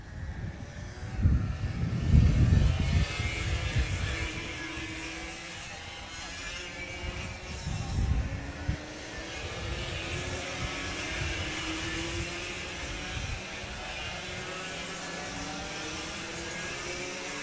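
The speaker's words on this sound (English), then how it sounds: "engines are running, and the drivers are arriving into the formation lap" Racing kart engines buzz steadily at a distance on a formation lap at an outdoor kart track, a continuous droning whine with a louder low rumble early on and around the middle, no voices.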